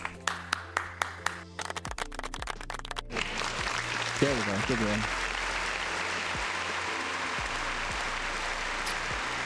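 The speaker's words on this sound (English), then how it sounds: "Round of applause" Applause and scattered clapping at a talk or stream, a few distinct claps at first, then a brief fuller round of applause mixed with talking and background noise.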